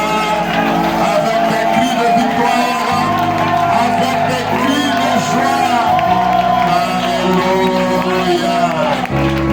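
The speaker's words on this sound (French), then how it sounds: "Est-ce que nous pouvons donner une grande acclamation à notre Elohim avec des cris de joie?" A church congregation at a pastor's visit cheers and shouts with joy in praise of Elohim: a loud, sustained crowd roar with whoops and music-like tones running throughout the clip.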